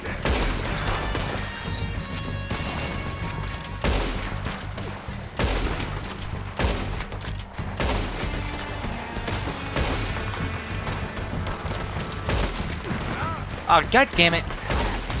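Gunfire in the video game Red Dead Redemption 2, bursts of shots and impacts scattered across the scene with game noise, while someone talks and curses over it.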